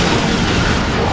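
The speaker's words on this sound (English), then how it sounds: "You should throw a grenade." Grenade explosion in the shooter game Resistance: Fall of Man, a loud, dense, sustained boom filling the whole short moment with no voices.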